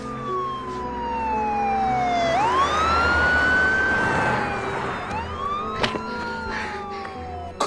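An emergency siren wails loudly up close, its pitch sweeping up and down in long glides, with some street noise and a couple of sharp knocks near the end and no speech.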